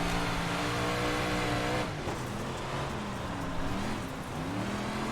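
Several 358 modified race car engines roar together at Williams Grove in iRacing, sustained loud harmonic engine drone with pitch shifting as the pack dives into the turn, continuous and close without a break.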